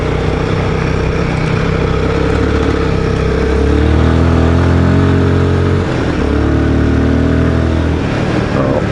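Royal Enfield Guerrilla 450 motorcycle riding over rough dirt and road, a steady mid-pitched engine drone with gear-change rises and dips, loud and close with continuous wind rush.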